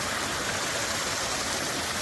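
A creek rushes through Ice Box Canyon in Red Rock Canyon, Nevada, a constant close broadband wash of flowing water with no voices over it.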